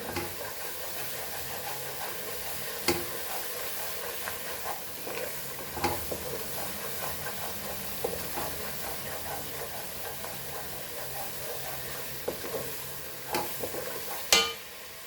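Spices and coriander frying in a pan for dal makhani tadka, a continuous soft sizzle and hiss with intermittent stirring scrapes and taps, fairly quiet and steady.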